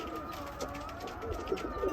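Tumbler pigeons of the Bursa Muradiye roller breed coo softly in low, throaty bursts against a steady background hum, no talking.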